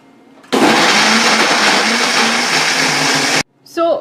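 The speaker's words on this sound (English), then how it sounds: "So we are going to blend this all in my Ninja" A Ninja blender whirs loudly and steadily for about three seconds, churning a mixture of dates, milk, egg and sugar, then cuts off abruptly, followed by a brief clatter.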